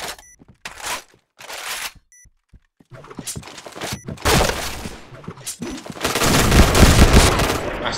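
AUG A3 rifle fire in the PointBlank shooter game, with separate bursts early on, then heavy continuous fusillade and shattering impacts building to loud sustained firing near the end, mixed with game effects.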